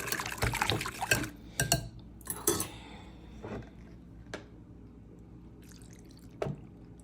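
Butter and seasoned salt being stirred for macaroni and cheese, a string of uneven clinks and scrapes of a utensil against a pot or bowl, louder early on and then sparser.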